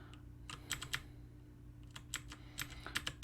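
Keys clack on a computer keyboard while Java code is written, in short irregular bursts of close, crisp taps separated by brief pauses, over a low steady hum.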